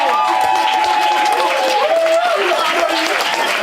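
A live audience at a Passing Clouds performance night claps steadily, with voices calling and cheering through the steady wash of clapping for the short stretch.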